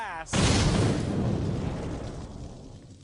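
A sudden loud blast, followed by a sustained low rumble and roar that slowly fades over a few seconds.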